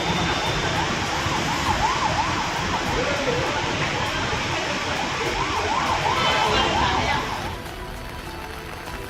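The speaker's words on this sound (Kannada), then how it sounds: "ಮೈಸೂರು ರಸ್ತೆಯಲ್ಲಿ ಟ್ರಾಫಿಕ್ನಲ್ಲಿ ಆಂಬ್ಯುಲೆನ್ಸ್ ಸಿಲುಕಿ ಪರದಾಡುವಂತಾಯಿತು." An ambulance stuck in traffic on Mysore Road sounds its wailing siren in a steady rising-and-falling cycle over loud road noise, fading slightly near the end.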